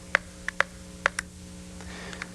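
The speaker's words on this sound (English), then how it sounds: "You can also use a metronome to keep your tempo steady." Metronome clicks keeping a steady practice tempo, a handful of sharp, close ticks at an even pace over a faint low hum.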